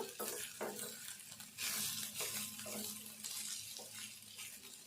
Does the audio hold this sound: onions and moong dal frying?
yes